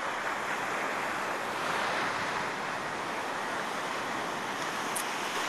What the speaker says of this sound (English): So there is the ocean.